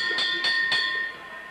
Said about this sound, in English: Referee calls for the bell.